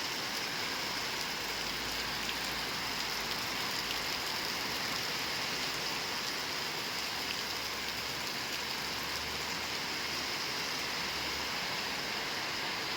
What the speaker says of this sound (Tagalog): Pangatlong araw na to, sunod-sunod yung ulan.